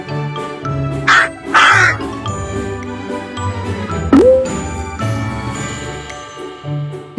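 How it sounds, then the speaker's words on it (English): A crow cawing amid a busy jingling, chiming musical backdrop, its harsh calls appearing in short bursts early on over the tinkling accompaniment. "Crow."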